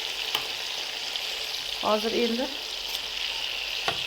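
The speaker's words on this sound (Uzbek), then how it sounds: "qizartirib qovurib olamizda" Salted fish fries in hot oil until browned, a steady close sizzle throughout, with a brief spoken phrase over it partway through.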